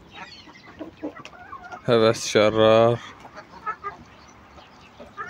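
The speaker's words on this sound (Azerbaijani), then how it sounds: "Bütün buradakı nə toyuq, xoruz var, hamısı satılır." Chickens and roosters at a poultry sale cluck and squawk, with a loud, close burst of drawn-out calls in the middle and softer scattered clucks around it, while someone talks throughout.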